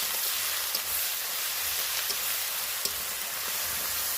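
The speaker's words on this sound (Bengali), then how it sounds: "পেঁয়াজ আর রসুনটা আমি একটু ভালো করে লাল করে ভেজে নেব" Onion and crushed garlic paste fry in hot oil in a pan for a country chicken curry, giving a close, constant hissing sizzle with scattered small pops and no talk.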